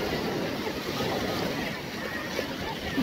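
Sea waves rolling onto the beach at Gatteo a Mare on Italy's Emilia-Romagna coast in summer, a continuous close wash of surf with wind buffeting the microphone.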